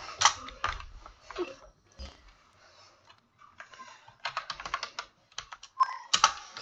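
Rapid bursts of keystrokes clack on a computer keyboard nearby, irregular clusters of typing separated by short pauses.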